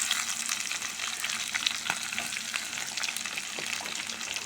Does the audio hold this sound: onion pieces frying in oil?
yes